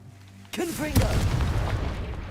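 A Confringo fire spell bursts in Hogwarts Legacy: a shouted incantation is followed by a sudden loud, booming blast that rumbles on for a couple of seconds.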